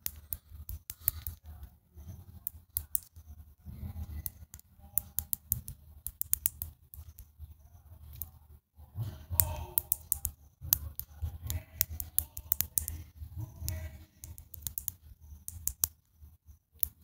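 Typing on a keyboard or phone comes in irregular bursts of soft, close clicks with short pauses between runs, alone and fairly quiet.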